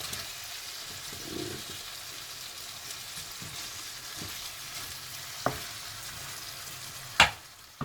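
Chicken masala fries in a pan with a steady close sizzle, punctuated by a few sharp clanks and scrapes as the pieces are tossed and stirred.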